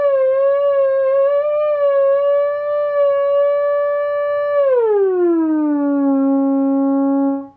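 Moog Etherwave theremin sounds a loud, sustained tone with gentle wavering vibrato, holding its pitch for several seconds before sliding smoothly downward and stopping, alone without speech.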